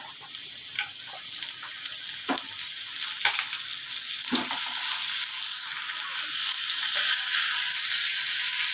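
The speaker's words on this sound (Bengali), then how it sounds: "এবার লাউগুলো দিয়ে দিচ্ছি।" Bottle gourd pieces tip into a hot pan of mustard oil, setting off a steady hiss and crackle of frying that holds throughout, with a few sharp clatters of stirring on top.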